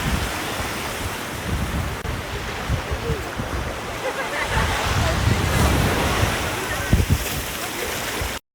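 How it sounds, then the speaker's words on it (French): Ocean waves break and wash continuously onto a beach, a steady close-up roar of surf that swells slightly in the middle and end, with wind buffeting the microphone. "Ce moment de détente ASMR avec les vagues"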